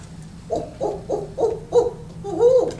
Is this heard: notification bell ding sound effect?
no